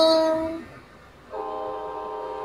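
A cartoon-style train sound effect for a children's learning clip: a steady tonal horn blast fades out, then a second sustained, harmonic horn-like tone starts and holds loud until the end.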